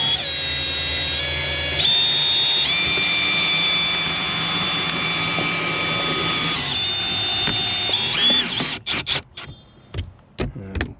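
High-pitched whine of a drill-powered cutting tool slicing out the windshield of a 2024 Mercedes GLE 63 S, steady and close for about eight seconds, then breaking into short stuttering bursts near the end.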